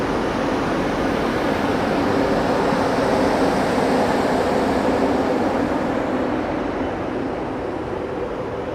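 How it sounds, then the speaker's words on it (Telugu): India's first hydrogen train on the Sonipat to Jind run, its engine giving a steady, even rumbling drone with broad hiss that holds constant throughout, heard from on board with no talking. "ఈ ట్రైన్ నుంచి ఇంజిన్ నుంచి సౌండ్ వచ్చే మాత్రం చూసుకుంటే కొంచెం తక్కువ సౌండ్ అయితే వస్తుంది."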